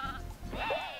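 A sheep in the video game Croc gives a single short, nasal bleat that rises and wavers, heard close and fairly clear above a low background hum.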